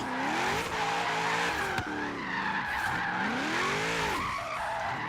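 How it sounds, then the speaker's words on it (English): A drift car screeches through a sustained, continuous tire skid, its engine note climbing and falling underneath as it swings through the corner, loud and close throughout. "I might not talk much because I cannot talk and drift, but you accelerate and initiate."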